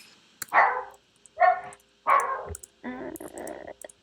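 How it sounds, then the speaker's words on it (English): A dog gives four or five separate barks with short pauses between them, muffled and moderately loud, heard alone. "I can hear the dog barking."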